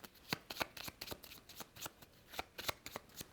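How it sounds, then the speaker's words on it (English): A deck of board game cards for ROVE Jr. is shuffled by hand at close range, a quick run of crisp riffling bursts in an irregular rhythm, with no talk over it. "giving those a good shuffle."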